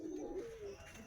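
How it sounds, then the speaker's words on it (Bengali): A pigeon coos softly in a small breeding loft of caged pairs, a single low rolling call close by, with quiet ambient hum around it. "আমার ব্রিডিংয়ের খাঁচা, মাত্র 5 জোড়া পায়রা বন্ধুরা।"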